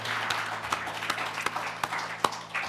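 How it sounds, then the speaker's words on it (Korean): A church congregation gives a round of applause, a quick, uneven patter of many hands clapping at moderate distance with a low hum underneath. "영광의 박수 올려드립시다."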